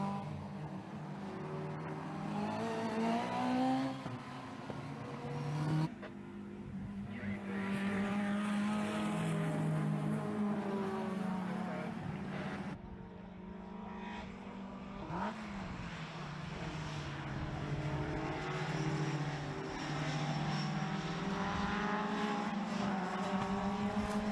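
Classic racing cars at the Anglesey coast circuit thunder past in a CSCC Gold Arts Magnificent Sevens race, loud engines rising and falling as several cars pass close by in succession, with no talk heard.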